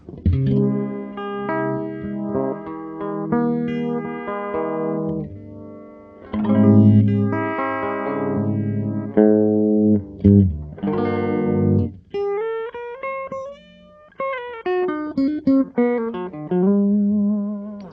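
Electric guitar notes and chords processed through a deep, fast warbling modulation effect, loud and pulsing, with short pauses between phrases.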